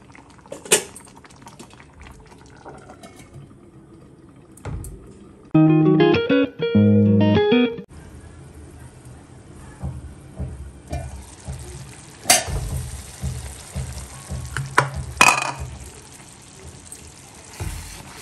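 Mushroom gravy in a pan is stirred and left to simmer, with soft bubbling, scraping and clinks of a spoon and lid, and a brief burst of melodic tones midway.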